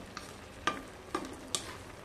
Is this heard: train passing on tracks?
no